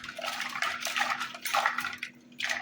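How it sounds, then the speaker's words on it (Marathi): Water splashing and running as a new kulfi mould stand is rinsed in clean water, with bursts of sloshing and light clinking of the stand, broken by a short pause before the splashing resumes. "आता हे स्वच्छ पाण्यातून एकदा काढून घेऊया."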